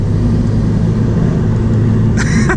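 Nissan Skyline GT-R R32 driving, with a steady low engine drone and road rumble continuing loudly throughout, and a brief brighter burst near the end.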